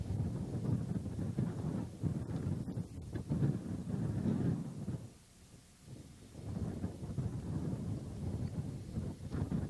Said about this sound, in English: Wind is pretty strong.